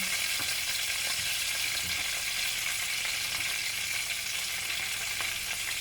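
Chicken frying in butter until golden brown, a loud, dense, continuous sizzle and crackle with faint stirring noises underneath, steady from start to finish.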